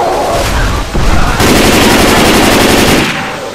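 An assault rifle firing in the zombie game Left 4 Dead 2 during a rain-flooded level, loud, close sustained bursts of rapid automatic gunfire broken by a short pause.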